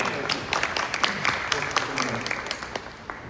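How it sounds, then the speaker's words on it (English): A crowd claps at a home lending and real estate coffee-and-conversation gathering, with a dense patter of sharp hand claps running steadily for a few seconds under a low murmur of voices. "let's give a applause to Case and Scott and Site to present the opportunity"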